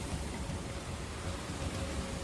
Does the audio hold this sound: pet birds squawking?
no